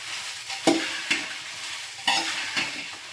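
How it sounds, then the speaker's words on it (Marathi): Green chillies roast in a pan, a soft steady sizzle interrupted by several sharp scraping strokes as they are stirred and turned, close and fairly quiet. "म्हणून या मिरच्या भाजून घ्यायच्या आहेत"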